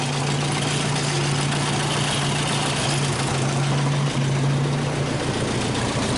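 A 1929 Whippet car engine idles loudly and steadily up close, a rough low drone with slight sputtering irregularities throughout.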